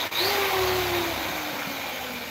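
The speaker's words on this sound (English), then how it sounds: "I'm using the cable drill for this one because it's a 1 horsepower drill rather than the 375 watt that I've got." A corded 1 horsepower electric drill runs steadily, boring into metal for a post box forge, with a continuous whining motor tone and a slight pitch drop as it bites, close and loud with no talk.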